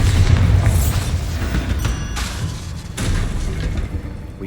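A Bombarda spell explodes in the Hogwarts Legacy video game during a fight with spiders: a loud booming blast with a low rumble, followed by a second thud near the three-second mark and ongoing game noise.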